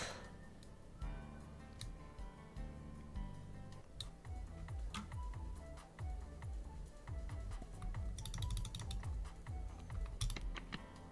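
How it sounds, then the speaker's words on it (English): Rapid, uneven typing on a computer keyboard, many light clicks in a busy stream with faint background sound, no voices. "typing."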